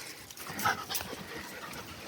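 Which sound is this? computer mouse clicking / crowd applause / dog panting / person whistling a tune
dog panting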